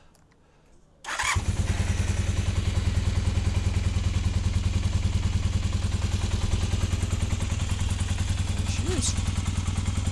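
A motorcycle engine fires up after a top-end rebuild and settles into a loud, steady, close idle with rapid even pulses, and a voice speaks briefly over it.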